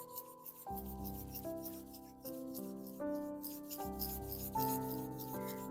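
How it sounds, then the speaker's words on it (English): Palms rubbing briskly together during a restorative yoga session: a steady, close, dry swishing friction under gentle sustained music, continuing for several seconds without talk. "Just rub your hands together."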